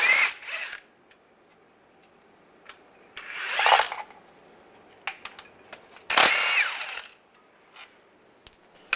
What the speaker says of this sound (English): Take these two bolts out, use a 15mm socket.